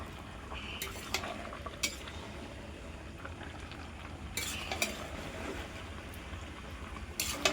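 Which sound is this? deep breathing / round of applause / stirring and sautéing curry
stirring and sautéing curry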